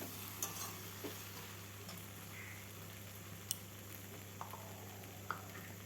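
Jackfruit with mogojdana frying in very little oil over medium gas, stirred in a pan: a faint steady sizzle with scattered clicks and scrapes of the spatula.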